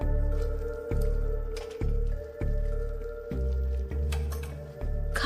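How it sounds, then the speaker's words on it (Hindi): Wet squishing and slipping sounds, close and quiet, come in repeated pulses as skin peels away from a cadaver left waterlogged for three to four days, with soft dripping between them. "खाल इस तरह से निकल जाती है।"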